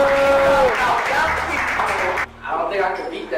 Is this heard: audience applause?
yes